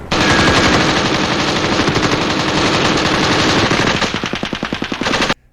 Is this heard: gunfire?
yes